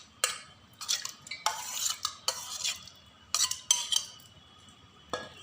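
A metal spoon stirs yogurt in a large pot, giving a string of sharp scraping clinks and swishes in irregular bursts, close and clear with quiet pauses between strokes.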